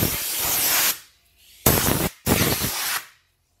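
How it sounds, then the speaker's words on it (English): Compressed air blasts out an aluminum window gasket channel in three close, loud hissing bursts, the first long, then two shorter ones separated by brief pauses. "Nice to have a compressor for things like that."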